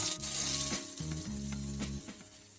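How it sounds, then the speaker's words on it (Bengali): Bombay duck fish pieces frying in a pan over low to medium gas flame, a soft continuous sizzle broken by a few gentle stirring or turning clatters, close and fairly quiet. "এবার আরেকটা পিঠ ভালো করে ভেজে নেব"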